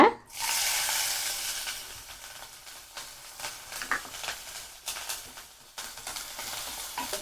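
Green chilies drop into hot oil in a pan, with a sudden loud burst of sizzling that settles into a steady crackle under occasional stirring scrapes.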